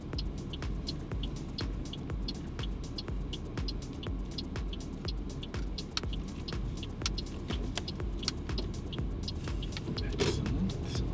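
Interior of a car being driven on a mock driving test, with a steady low engine and road rumble and regular faint ticking clicks throughout.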